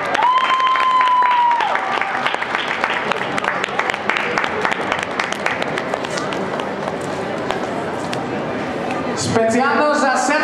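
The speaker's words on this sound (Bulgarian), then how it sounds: "искам пълни аплодисменти за Los Pambos, Диато Колевци и Снежанките" An audience applauds for the Los Pambos dance students at a salsa show, dense clapping mixed with crowd noise and voices, before music begins near the end.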